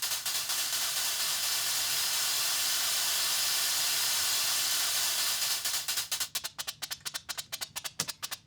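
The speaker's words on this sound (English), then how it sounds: "simply opening up the release will bring them up to a noise" Synthesized white noise with the release opened up gives a steady, loud hiss that holds for several seconds, then breaks into rapid rhythmic gated bursts toward the end.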